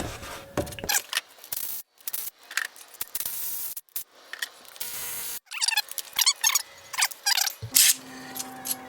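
Bolts pushed one by one through holes poked in cardboard during a part-time kit install on an 80 Series Land Cruiser, heard as close scraping rubs and scratchy pokes in uneven bursts with brief quiet gaps.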